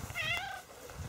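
A cat meows once, a rising then falling tonal call that sounds close and clear, set against a quiet room with no talking.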